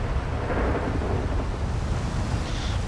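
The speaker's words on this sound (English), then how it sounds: "See if this storm is going to persist or if we can get some drier weather tonight." Thunderstorm in GTA V on a wintry afternoon in Sandy Shores: a steady, dense roar of rain and rolling thunder filling the scene, even and loud throughout with no speech.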